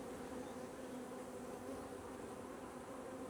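Dense, steady buzzing of many honeybees around an open hive with capped brood frames, a continuous close drone filling the whole moment with no voices.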